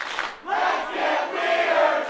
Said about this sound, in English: The chant from the crowd wanted to get weird